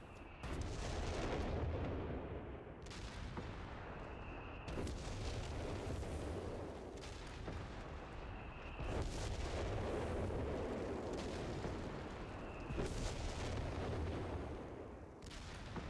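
Bishop self-propelled artillery in Company of Heroes 3 firing shells, a series of loud booming blasts about every two seconds over a dense, rumbling battlefield background.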